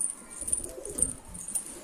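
Homing pigeons at a loft in Mardin give soft, low cooing in a few brief phrases, faint and close, over a thin high whine and light background noise.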